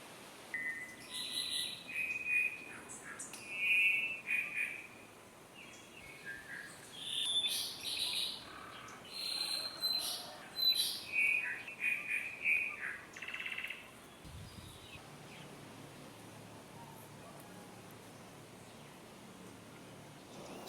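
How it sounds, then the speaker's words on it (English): Cuban solitaire, an endemic Cuban songbird in Vinales, singing clear high fluting phrases in repeated bursts over a faint insect hiss, moderately distant, fading out toward the end. "the endemic Cuban solitaire. Not the best looking of Cuba's birds, but undoubtedly the best songster"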